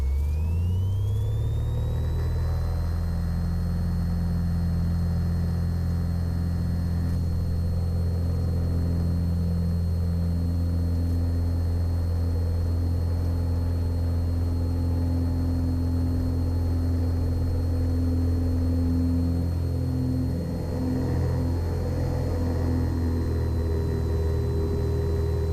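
A Cessna 182 light aircraft engine spins up and then holds a loud, steady, close droning rumble with a propeller whir through the departure from runway 04, with no talking.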